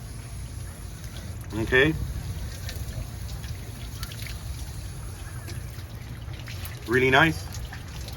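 Water splashes and trickles over a freshly gutted pargo in two short bursts against steady outdoor background noise, with a voice speaking briefly.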